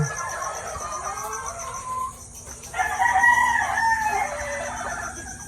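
A rooster crows loudly, followed by more crowing and clucking from several chickens, including hens, with a steady insect-like hum in the background.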